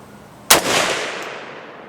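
A single sharp rifle shot from a PSA PA-10 chambered in .308 Winchester at a target range, loud and close, with a brief reverberant tail fading over the next second.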